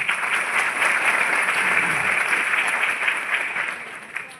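A seminar audience in Bhagalpur, Bihar claps in a sustained, even burst of applause, many hands at once from a medium-sized crowd, holding steady before thinning at the end.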